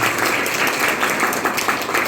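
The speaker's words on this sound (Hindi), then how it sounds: "करोगे तो ताली बजा दो" A lecture audience of students claps together, a dense, steady burst of applause close by that lasts about two seconds.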